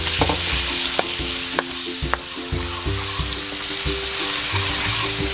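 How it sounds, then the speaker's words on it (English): Cherry tomatoes fry in a hot pan with a steady loud sizzle while a spatula stirs and knocks against the pan several times. "Let's add our cherry tomatoes. Put that right in and cook it down."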